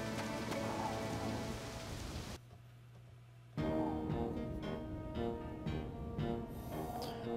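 Steady, dense rainfall from the video game Harvest Moon: Animal Parade hisses loudly and evenly, dropping out briefly for about a second before returning at full strength.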